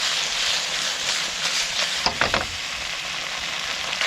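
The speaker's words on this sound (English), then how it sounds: "Whiting, stir fry, bok choy, chilli, all from the garden." Whiting fillets stir-fried with bok choy and chilli sizzle steadily in a hot pan, a dense continuous crackle with a brief louder burst of spatter midway, no voices.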